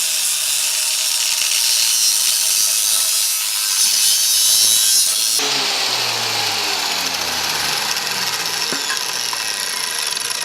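Exhaust header flanges being cut off with a power cutting tool, a loud continuous grinding whine that shifts pitch partway through as the blade bites into the metal.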